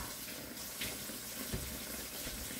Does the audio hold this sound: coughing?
no